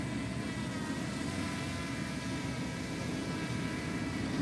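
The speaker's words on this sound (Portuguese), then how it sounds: "Esse drone, ele tem uma estabilização muito boa, pessoal." A camera drone hovers and flies slowly overhead, giving a steady, loud whirring hum that holds evenly from start to finish with no voices over it.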